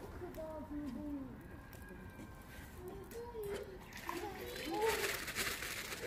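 Water splashes and sloshes in short bursts at a zoo enclosure holding Asiatic black bears and brown bears, with voices and children talking throughout and the splashing building louder near the end.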